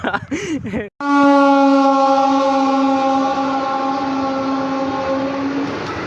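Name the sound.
train arriving at station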